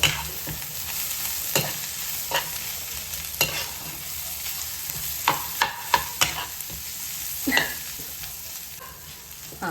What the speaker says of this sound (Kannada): ಇದನ್ನು ಕೂಡ ನಾವು ಒಗ್ಗರಣೆಯಲ್ಲಿ ಸ್ವಲ್ಪ ಫ್ರೈ ಮಾಡಬೇಕಾಗುತ್ತೆ ಫಸ್ಟು